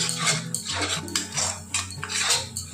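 Masala stir-fried with a splash of warm water in a kadai for a restaurant-style mixed veg, with repeated scraping and clinking of a metal spatula against the pan in a steady rhythm, close and fairly loud.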